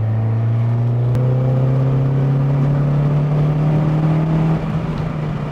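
A third-generation Honda Prelude accelerates on a road during a test drive, its engine holding a steady, rising drone from the cabin that eases off near the end.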